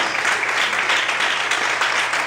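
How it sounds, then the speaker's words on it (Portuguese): Congregation clapping in church during an evening service, a continuous thick patter of many hands at an even, sustained level from start to finish. "Aplauda o Senhor essa noite"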